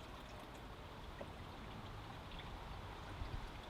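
Nettle liquid manure pours through a strainer into a large drum in a steady, faint trickling stream, with soft gurgles and splashes throughout.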